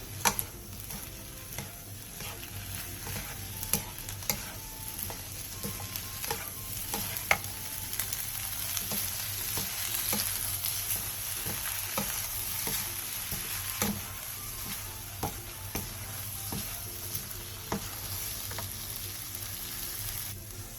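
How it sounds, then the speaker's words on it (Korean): Sliced onions being stir-fried with oyster sauce, soy sauce and sugar, a steady close sizzle with regular scraping and tapping of a spatula against the pan, no voices. "굴소스 반 스푼, 간장 1스푼, 설탕 1티스푼을 넣고 양념이 골고루 어우러지도록 약 2분 정도 더 볶아주세요"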